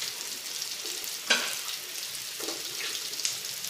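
Kangkong and tofu are stir-fried in a pan with oyster sauce. A steady close sizzle of frying is broken by a few brief scraping stirs, with no talk.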